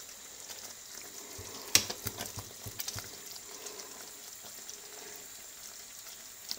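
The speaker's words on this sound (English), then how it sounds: "that's just so you can see what's boiling when I stir down" A fudge mixture boils in a pan while being stirred, giving a faint, steady bubbling with a few soft spoon clicks and scrapes.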